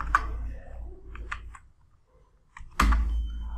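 Someone types AutoCAD into a website search bar on a computer keyboard, producing short bursts of close key clicks separated by a quiet pause, then a denser flurry at the end.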